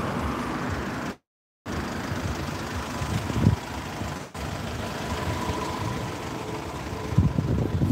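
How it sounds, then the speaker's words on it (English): A car engine left running idles with a low, steady rumble, heard alongside wind and traffic noise, with a brief dropout and a few small bumps. "He's left his fucking engine on."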